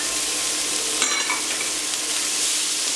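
Garlic and green and red peppers fry steadily in a pan, a continuous close sizzle with a brief louder stir or clatter near the start, no voices.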